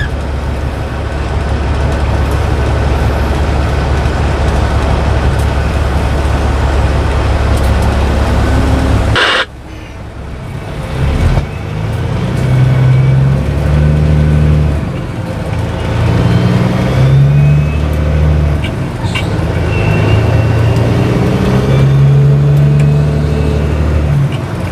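A 20-year-old Peterbilt 379 truck rumbling loudly at steady speed, then dropping abruptly to a quieter, lower drone with rising and falling engine tones as it works through the gears.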